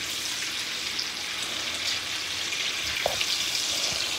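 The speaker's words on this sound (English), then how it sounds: "we got that butter marinade up in there. That got real, real hot. So now I'm gonna put our first piece of fish." Salmon fillet searing in a pan of very hot butter marinade, a steady loud hissing sizzle throughout with a soft clink near the end, no talking.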